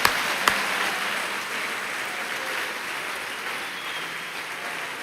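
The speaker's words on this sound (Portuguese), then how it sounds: "vamos aplaudir mais uma vez o Senhor" Congregation applauding in a church, a broad even wash of many hands clapping at moderate volume, steady throughout with a couple of sharp louder claps at the very start.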